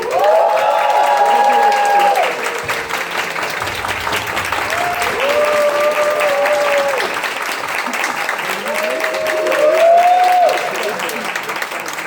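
An audience at a drag talk event welcomes drag queen Savana Cerrado with steady clapping and bursts of cheering and whooping voices rising over it, loud and close throughout.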